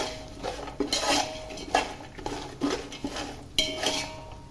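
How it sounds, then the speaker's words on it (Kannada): A spatula stirs chili powder through dry poha chivda in a pan, giving a series of close scraping and clinking strokes against the metal at an irregular rhythm, with no voices. "ಹಾಕಿ ಚೆನ್ನಾಗಿ ಮಿಕ್ಸ್ ಮಾಡ್ಕೋಬೇಕು."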